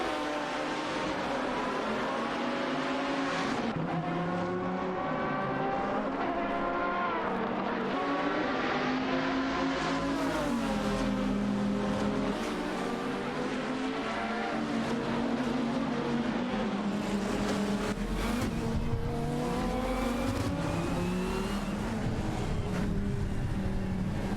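Race cars in a video game, a Ferrari 575 GTC and a Porsche Carrera GTR among them, scream continuously with engine notes rising and falling through gear changes, several cars blending close together for a sustained stretch without voices.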